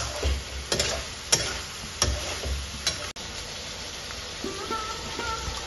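Chicken pieces frying in a pan with spices, a steady low sizzle under repeated stirring scrapes and knocks of a spoon against the pan, fairly close and moderately loud, no talking.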